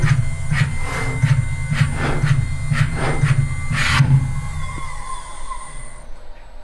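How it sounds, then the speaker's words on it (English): A PrintNC CNC machine runs G-code with a loud mechanical whine and rhythmic bursts of stepper movement, the pulses repeating about once a second before easing into a quieter steady hum. "Here's running that G-code again from looking up closer."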